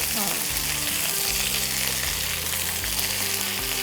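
Vegetables for a traditional Bengali fish shukto sizzle in a pan as they are stirred, a dense, close frying hiss with a faint low hum underneath.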